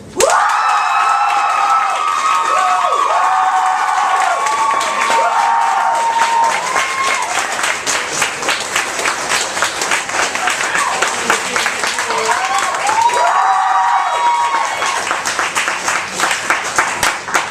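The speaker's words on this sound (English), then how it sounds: "applaud for the piece that you think, or sorry, that you like the most" An audience at a poetry competition bursts into loud, sustained applause with cheering and whoops, clapping dense and continuous throughout, with shouted voices rising over it at the start and again near the end.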